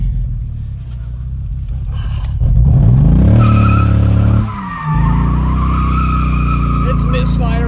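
A BMW E39 with a badly misfiring engine is drifting. Loud tires skid and squeal over a rough, uneven engine drone that rises in pitch, dips briefly, then holds strong, all heard close up.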